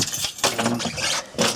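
Car keys from a Honda CRX jangle briefly and close by, a short metallic rattle lasting little more than a second with no talk.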